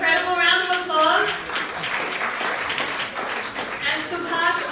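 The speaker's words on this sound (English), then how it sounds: "Amazing, incredible round of applause." Audience applause breaks out at a charity gala auction for cancer patients, a dense steady wash of clapping lasting several seconds, with a voice speaking over it at the start and again near the end.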